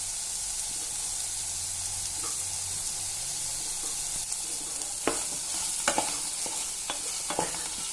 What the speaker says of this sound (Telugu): దీన్ని బాగా ఫ్రై చేసుకోవాలి.